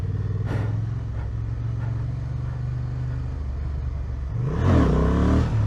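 A Honda Transalp 750 motorcycle engine drones steadily at close range, then revs up sharply in a rising surge near the end as the rider attempts a wheelie.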